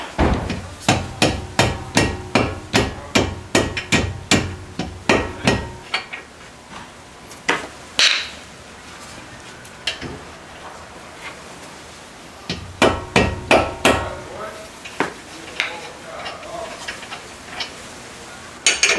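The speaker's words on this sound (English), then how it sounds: "I'm going to tap it to remove it" A hammer taps a front strut part on a 1997-2001 Toyota Camry to loosen it, giving sharp metallic blows in steady rapid runs, then a quieter gap with scattered hits and another burst near the end, close and loud.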